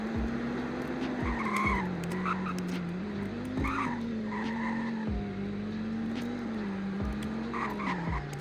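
Dodge Viper ACR-E launching hard in a 0 to 60 run, its tires squealing with several short screeches over a steady engine tone, heard from a distance without talk.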